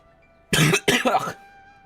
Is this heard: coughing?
yes